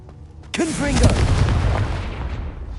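Confringo blasting spell exploding in Hogwarts Legacy, a sudden loud burst that rolls into a sustained rumbling boom, with faint voice-like tonal sounds over the blast.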